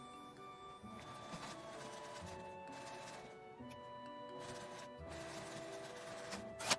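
A sewing machine stitches a face mask with a gauze lining, sewing along the mesh about a centimetre from the edge: a steady, continuous mechanical whir with light ticking, close and alone, ending in a brief louder clack.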